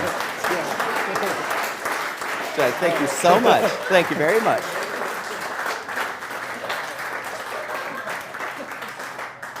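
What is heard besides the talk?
audience applause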